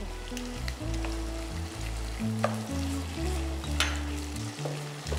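Ginger paste hits a hot pan and sizzles steadily while being stirred, a constant frying hiss with occasional scraping taps, heard close up under low tonal background sound.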